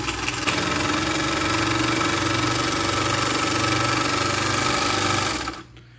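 A GN1-6D semi-industrial Chinese overlock sewing machine runs steadily for about five seconds, a loud continuous mechanical whir with a fast stitching rhythm, then stops abruptly near the end.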